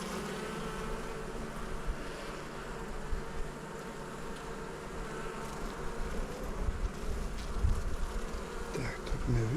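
Honey bees at open beehive frames, being arranged into the winter nest, hum as a continuous dense drone close by, with wing buzz swelling and fading throughout and no talk over it.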